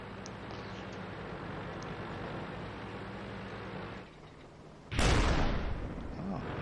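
A loud tank cannon shot in World of Tanks fires at about five seconds, a sharp broadband blast that rolls off slowly over a steady engine rumble and battle background.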